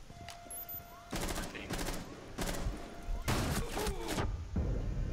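Gunfire in Rainbow Six Siege during a team deathmatch on a house map, several loud rapid bursts of automatic shots with short gaps between, dense and close.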